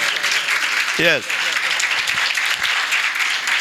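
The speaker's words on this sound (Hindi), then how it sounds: "खुदावंद के लिए बहुत सारी तालियां।" Church congregation applauding in a continuous, full burst of clapping, with a brief voice rising out of the crowd noise.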